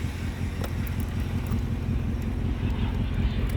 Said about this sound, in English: Let me just wait for this fucking airplane to pass.